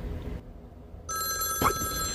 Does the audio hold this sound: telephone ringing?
yes